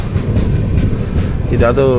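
A moving passenger train passes near Shadnagar railway station, giving a loud, close, continuous rumble with rail clatter, and a voice comes in toward the end.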